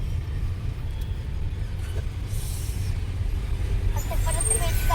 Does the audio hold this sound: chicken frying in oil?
no